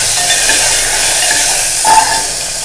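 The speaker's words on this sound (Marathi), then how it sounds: "हे बघा लसणीच्या पाकळ्या त्या घालते, तर चांगल्या तेलावरती ढवळायच्या आहेत" Garlic cloves frying in hot oil, giving a steady, fairly loud sizzling hiss with a faint stirring scrape partway through.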